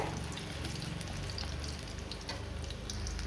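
Chopped ginger frying in sesame oil for ginger chutney, a steady close sizzle running unbroken for about three seconds with no voices.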